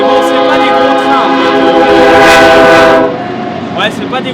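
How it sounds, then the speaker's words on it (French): A train rolls past close by on a quiet American line, its horn blaring loudly and steadily for about three seconds before dropping to the rumble and clatter of the passing cars. "on va rester là jusqu'à temps que le train a fini de passer"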